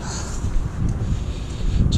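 Wind buffeting a microphone in low, uneven gusts on a humid day in Qatar, rumbling steadily throughout.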